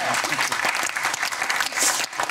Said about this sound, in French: on applaudit là, vraiment ça